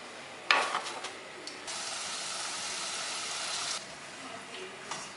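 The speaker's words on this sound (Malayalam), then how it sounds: "നമുക്ക് ബാക്കിയെല്ലാം ഇതുപോലെ എണ്ണയിലിട്ട് വറുത്തെടുക്കാം." Bhatura dough fries in hot oil, a close, steady sizzle and bubbling that swells after a splashy start and settles after a few seconds, with a few light utensil clinks.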